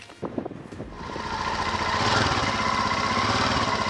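Royal Enfield Himalayan motorcycle engines start after a cold night outdoors: a few sputtering catches, then a loud, steady, rumbling idle that builds and holds close by.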